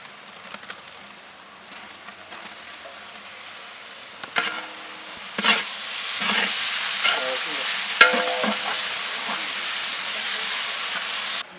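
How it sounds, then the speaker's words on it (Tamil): Chopped onions and tomatoes sauté in a pan as the base for a prawn gravy, a soft sizzle swelling into steady frying with occasional spoon scrapes and stirs, close and without talk. "வெங்காயம் தக்காளி ரெண்டுமே வதங்கிடுச்சு"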